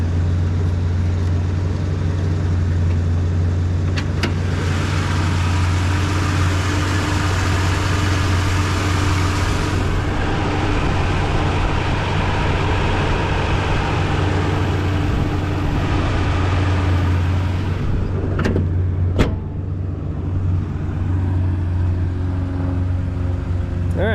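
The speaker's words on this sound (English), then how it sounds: "I'll pop the hood one more time so you can hear it running." Nissan D21 Hardbody pickup with a VG30 V6 idling steadily under an open hood, a close, continuous low engine drone with a couple of brief clicks near the end.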